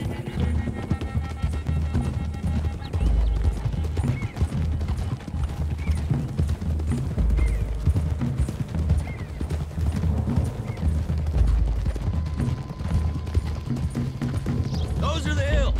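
Horses' hooves clip-clop steadily in Red Dead Redemption II as a group rides along a road, with occasional neighs rising over the galloping while voices talk throughout.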